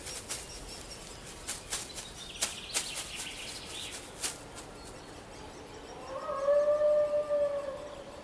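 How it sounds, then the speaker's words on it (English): Coyotes howling in a wintry Yosemite valley among granite walls, faint, distant rising wails that swell near the end over a hushed, breathy background. "Coyotes form strategic packs, their haunting calls echoing off granite walls as they coordinate hunts"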